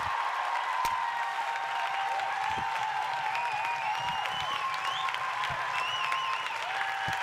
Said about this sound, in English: welcome him with open arms and warm applause